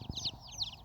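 Free-ranging village chickens in rural Thailand give several short, near clucks and chirpy calls in quick succession, with faint background sounds underneath.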